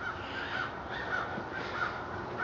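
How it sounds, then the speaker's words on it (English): Crows caw repeatedly from the background outdoors near a lean-to under construction, their harsh calls recurring in a loose rhythm over a steady noisy backdrop, with no voices. "And you guys can probably hear the birds squawking in the background."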